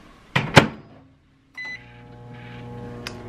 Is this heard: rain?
no